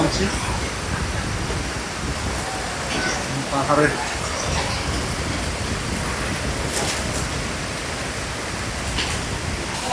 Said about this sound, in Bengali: অনেক নামছে বড় বড় কি ভয়ঙ্কর দেখুন খুবই ভয়ঙ্কর স্রোত নামছে